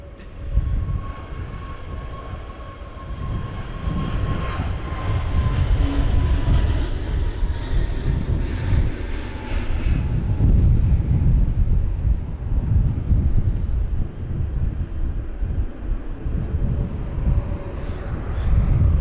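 An Airbus A321neo takes off at London Heathrow during Storm Kathleen, its engine roar rising and swelling steadily over gusty wind noise and holding loud for most of the span.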